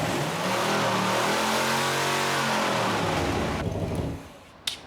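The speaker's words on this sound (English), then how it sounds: "Just to be certain, Adam revs the engine." A car engine run after mothballs were added revs up and down loudly at close range, its pitch rising and falling, then cuts off abruptly, followed by a brief click.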